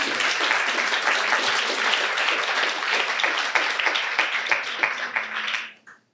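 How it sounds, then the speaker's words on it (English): An audience at an international policy forum gives a sustained round of applause for the speakers, dense clapping that carries loud and steady before dying away abruptly at the end. "last round of applause for the speakers"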